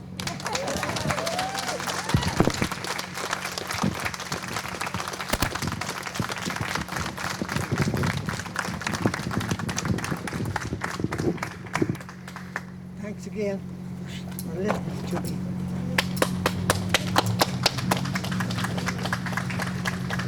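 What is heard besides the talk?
audience applause after a history tour talk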